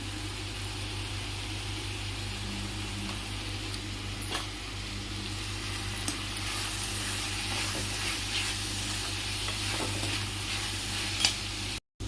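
Sliced onions and green chillies fry in a pan for brinjal tomato curry, with a steady sizzle and intermittent stirring scrapes over a constant low hum from a nearby burner or fan.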